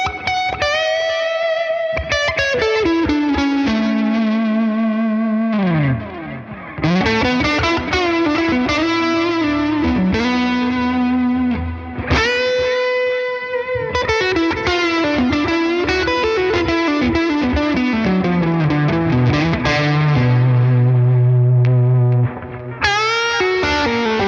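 Electric guitar played through a Tone King Imperial preamp pedal with reverb added, sustained melodic lead lines with bends and gliding notes, loud and continuous, with reverb tails between phrases.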